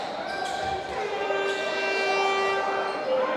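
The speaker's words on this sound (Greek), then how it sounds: "Έχουμε σφύριγμα" A referee's whistle in a youth basketball game, blown for a foul: a sustained tonal blast over faint arena background noise.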